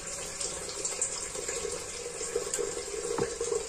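Water runs steadily from a tap into a container, being filled as drinking water for quails; a continuous close, moderately loud splashing stream with no talking.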